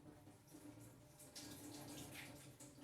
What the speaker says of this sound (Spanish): Yo lo voy a poner abajo del chorro de la canilla.